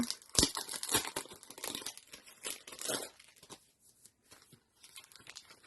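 Crinkly plastic packaging is torn and unwrapped from a craft cutting die with a mountain, fir tree and tent design, giving close, busy rustling and crackling with a sharp tearing burst near the start, then quieter scattered crinkles.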